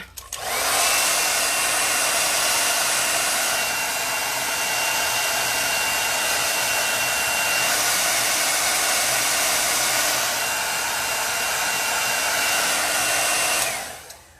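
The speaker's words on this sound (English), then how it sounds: "I am going to take my blow dryer now and dry that." A blow dryer drying chalk paint on a box whirs steadily at close range for about thirteen seconds, switching on at the start and off near the end.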